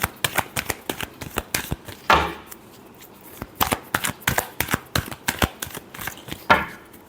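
Tarot cards being shuffled by hand, a rapid, close run of crisp riffling flicks with two louder bursts where the deck is bridged, steady and fairly loud.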